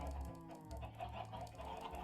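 Soft, short clucking from a gray chicken in the modded Minecraft pack StoneBlock 4, a few quiet, low bird calls spread over a couple of seconds.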